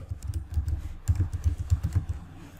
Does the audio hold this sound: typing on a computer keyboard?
yes